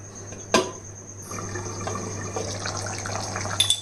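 Water is poured into a chicken curry and mixed in. After a single sharp knock, an even rushing pour runs close and clear for over two seconds, and a few small clinks come near the end.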